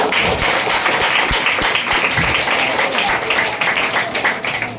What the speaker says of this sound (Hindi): तो जोरदार तालियां मेरी